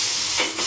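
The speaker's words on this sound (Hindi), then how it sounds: "तो इस तरीके से सीटी निकाल के गैस निकाल देते हैं" Pressure cooker on a gas stove, cooking mixed masoor and arhar dal, releasing steam through its whistle in a steady loud hiss for under a second, with no talk over it.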